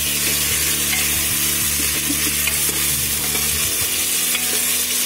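Stuffed tinda (Indian round gourd) frying in oil on medium gas, a loud, dense, continuous sizzle that holds evenly from start to end, with no voices.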